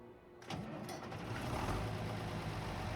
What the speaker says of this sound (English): pull the tractor up here and test it out for the workshop